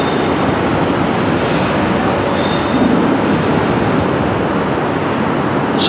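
A coal train rolls steadily along the tracks, a continuous loud rumble of railcars and wheels with faint squealing, no talk over it.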